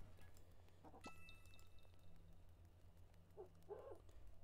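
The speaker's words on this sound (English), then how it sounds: "Hey, it's the owl again." An owl hoots in the video game Shapik the Moon Quest, a few soft, low calls near the end over a faint ambient game background with a brief chime.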